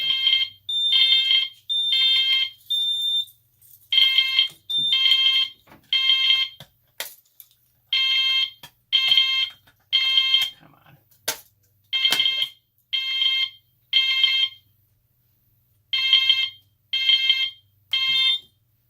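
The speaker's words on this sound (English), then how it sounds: "So, without further ado, let's go ahead and test." An Edwards FireShield Plus fire alarm system sounds during a test, its horn blaring in a repeating pattern of loud, close, electronic tone bursts separated by brief gaps, with no talking.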